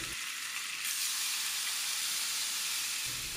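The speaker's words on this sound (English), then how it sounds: "Let this side of the chicken cook for about 5 minutes." Chicken thighs sear in a hot pan with a constant, dense sizzle up close, steady throughout with a slight swell partway in.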